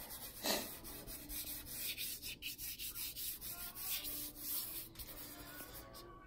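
Fingers rub soft pastel across paper in a series of quiet, close scuffing strokes, repeated in a soft rhythm with no voices.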